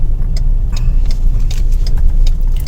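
A truck passes close by on a narrow raised road along a canal bank, about five metres wide; a steady loud engine rumble and tyre roar run throughout with no talk.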